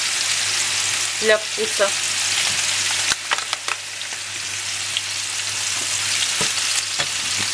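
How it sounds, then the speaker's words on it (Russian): Jamón fries in a pan with a steady, close sizzle and a few scraping clicks from stirring; a voice speaks briefly over it. "Пускай обжаривается. И когда это готово, добавлю вот такой хамончик"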